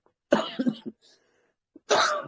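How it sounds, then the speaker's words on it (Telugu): A person coughs in a quiet room, two harsh close bursts separated by a short silence. "సారీ, దగ్గుంది"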